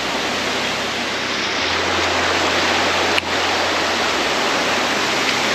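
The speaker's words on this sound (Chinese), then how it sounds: "树湖瀑布就在后方啦" Tree Lake Waterfall in Hualien, Taiwan, pours as a loud, steady, close roar of rushing water that fills the whole clip, with no talking.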